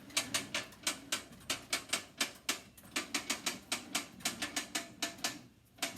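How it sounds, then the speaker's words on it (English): A slab roller wheel is being cranked at a steady pace to roll clay between two rollers, giving a regular series of sharp clicks and ratchet-like ticks that repeat close to the microphone with no voices. "I'm going to start turning the wheel."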